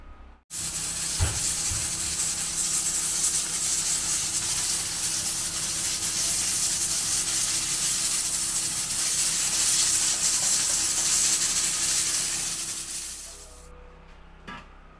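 A pressure cooker vents steam while beef entrails cook for papaitan soup. It gives a loud, steady, close hiss that runs unbroken for about thirteen seconds and then stops abruptly.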